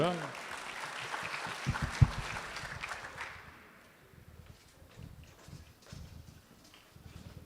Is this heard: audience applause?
yes